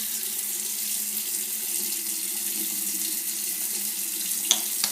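Water runs from a bathroom tap in a steady, even hiss while a man washes his face, with a faint splash near the end.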